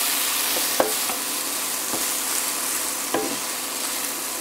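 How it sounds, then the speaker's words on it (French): Pieces of beef for a green mango salad sear and sizzle in a hot pan, a steady loud frying hiss broken by a few scraping stirs, with no talk. "je vais juste les laisser saisir un peu pour avoir un côté grillé"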